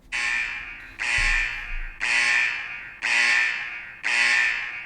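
Five loud electronic alarm beeps, evenly spaced about a second apart, harsh and buzzing with no other sounds.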